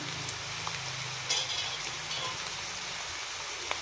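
Peanuts fry in a pan over a medium flame for lemon rice, a steady close sizzle with faint crackles and a spoon stirring now and then, no voices.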